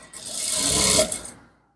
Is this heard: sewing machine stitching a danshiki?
yes